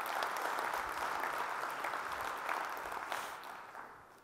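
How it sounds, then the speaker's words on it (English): An audience at a live evening show gives a steady round of applause that slowly tapers off over a few seconds, heard from a distance. "Give them a round of applause."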